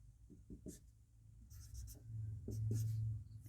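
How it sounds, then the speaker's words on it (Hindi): Chalk or marker scratching out writing on a board in a classroom, short strokes then longer steady ones, close and moderately loud, with no talk over it. "यहाँ लिख सकते हैं इसको"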